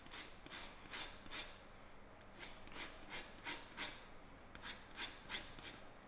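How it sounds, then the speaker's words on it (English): A lemon is zested over a grater, a run of quiet rhythmic scraping strokes, each a short rasping rub repeated about twice per second, close and faint with no talking. "I will zest my lemon into this cream mixture."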